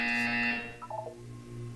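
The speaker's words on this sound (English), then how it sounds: "You will hear a buzzer" A buzzer from the Portal 2 video game sounds as a loud, steady electronic tone, then fades into a brief warbling electronic flourish and a lower hum.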